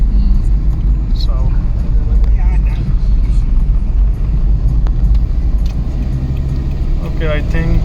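A car drives through Rutegama town in rural Muramvya Province, Burundi, with a loud, steady engine and road rumble and some rattling throughout. Voices talk over the driving noise.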